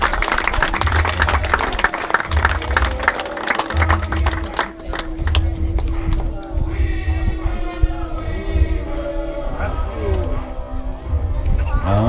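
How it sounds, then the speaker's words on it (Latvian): Applause for the third-place junior rider at a Latvian motorcycle trial Grand Prix awarding ceremony in Grobiņa, an outdoor crowd clapping steadily under an announcer's voice and background chatter. "Aplausi no Sebastian"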